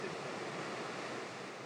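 Water in an artificial surf wave pool rushes as a steady, broad wash of surf noise, distant and soft, with no voices.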